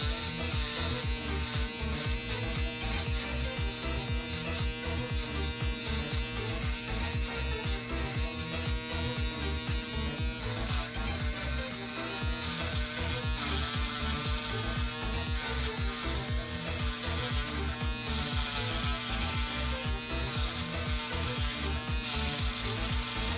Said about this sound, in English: Use the shaver a bit lower than we use the trimmer.